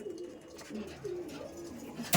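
Madrasi pigeons coo in a series of soft, low, rolling calls close by, repeating through the stretch with a brief louder noise at the end.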